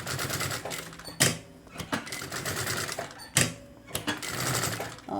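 Close, steady stitching of a sewing machine applying bias binding with a bias foot on a double-compartment zip pouch, running continuously with two sharp mechanical clacks between stretches; no speech.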